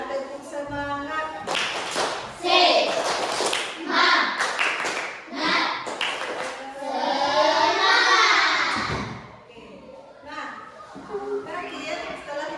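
Children in a classroom perform a rhythmic clapping cheer, bursts of claps in patterned groups with young voices chanting and calling along, a teacher's voice briefly between.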